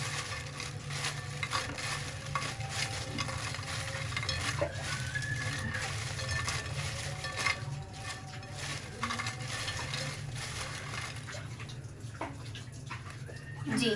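Crispy fries are tossed in a bowl to coat them in chicken powder, producing a steady rustling, scraping churn that continues without a break at moderate volume.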